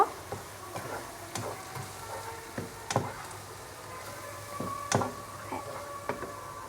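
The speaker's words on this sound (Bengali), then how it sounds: "এখন আমি মশলাটা হালকা একটু কষিয়ে নিব" Turmeric, chili, coriander and cumin powders fry in a pan for Bengali tripe bhuna while a spoon stirs them, giving soft steady sizzling and a string of light scraping taps against the pan.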